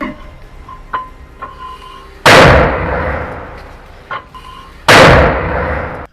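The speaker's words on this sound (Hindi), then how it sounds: "यहां पर अल अक्सा ब्रिगेड ने आईडीएफ के कमांड और कंट्रोल चौकियों पर मोर्टार गोले दागे हैं।" Two loud, close mortar shell launches in combat, each a sudden heavy blast with a decaying roar, about two and a half seconds apart, with faint clicks and thuds in between.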